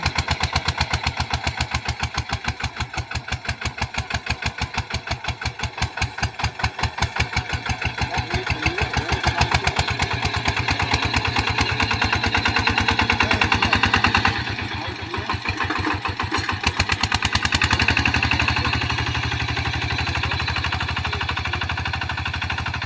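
A small KRT140 4x4 tractor pushing soil, its single-cylinder diesel with a shortened upright exhaust pounding out a rapid, even thump close by, loud throughout with a brief dip midway.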